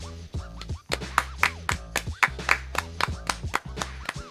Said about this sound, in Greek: Ας το χειροκροτήσουμε όλοι.